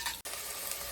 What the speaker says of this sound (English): As that's sizzling along quite nicely